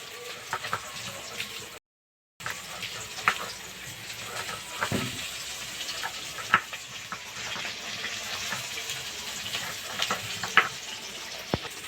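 Pieces of rui fish frying in hot oil, a continuous soft sizzle and crackle with scattered pops and small clicks, broken by a brief dropout near the start, moderately quiet and steady.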